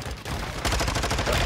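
Rapid gunfire from the Warzone video game, a dense burst of repeated shots that opens after a brief lull and continues loud and close to the end.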